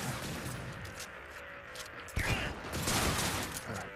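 An enemy shotgun fires in Cyberpunk 2077: a sharp, loud blast lands midway through, followed by further heavy shots over background game noise.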